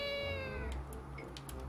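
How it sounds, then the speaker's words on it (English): A drawn-out cat meow from The Legend of Zelda: The Wind Waker, a single falling, wavering cry close and clear, followed by a few brief soft clicks. "I'll never get over that meowing"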